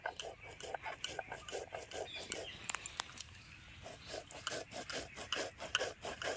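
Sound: grinding soaked rice by hand

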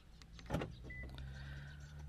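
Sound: car door locking

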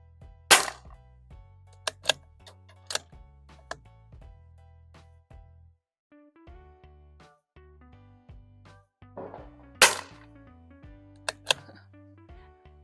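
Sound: firing .22LR rounds in a .22 Magnum gun

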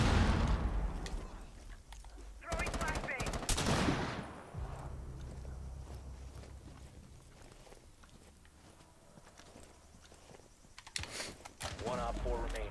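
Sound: gunfire in video game Tom Clancy's Rainbow Six

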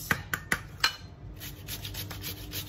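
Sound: grating potatoes on a cheese grater

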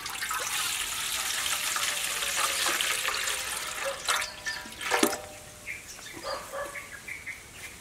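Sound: water poured into pot for agati sour soup

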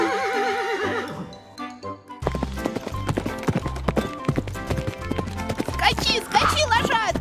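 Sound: horse hooves clip-clop, toy horse galloping

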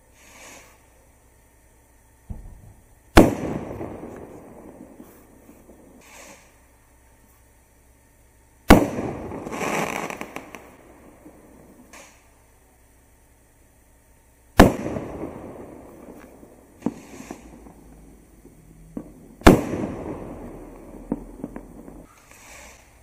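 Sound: firework rockets launching and bursting

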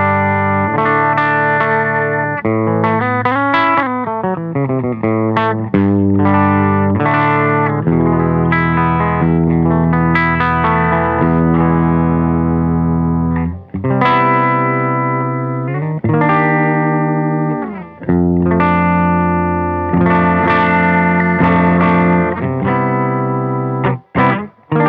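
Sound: Maghini electric guitar, clean tone on neck pickup

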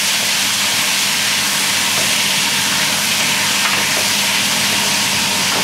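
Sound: chicken and beef sizzling in hot oil

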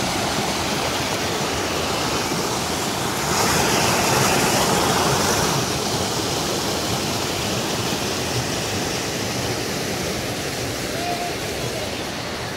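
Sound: flowing river, Caño Cristales, Colombia

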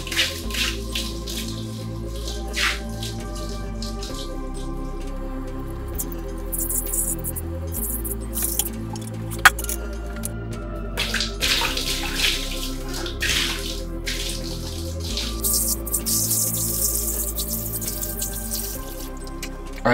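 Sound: water poured into plugged shower for leak test

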